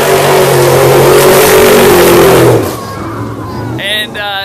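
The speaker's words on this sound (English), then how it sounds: "trucks are going one by one, taking off from the start line. It's pretty amazing. It's pretty freaking loud, though." Race trucks at the Baja 1000 start line in Mexico rev hard and take off one by one, a loud, close engine roar for over two seconds that drops away into a quieter rumble with brief voices near the end.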